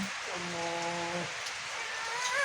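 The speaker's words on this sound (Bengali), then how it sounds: "বৃষ্টি তো সারতেছি না আজকে" Steady hiss of rain falling, with a brief humming tone early on; fairly even and continuous throughout.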